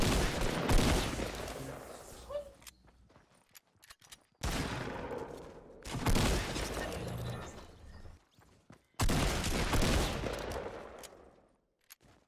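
A blue shotgun fires in a Fortnite Battle Royale duos match. Three loud, sharp blasts land about four seconds apart, and each one decays into a rumbling tail.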